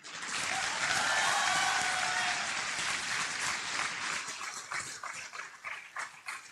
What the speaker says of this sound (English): the biggest round of applause goes to the lords of the last bench